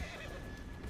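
A horse in the video game Red Dead Online lets out a short, loud whinny, heard up close with a faint rustle of other game sounds around it and no talking.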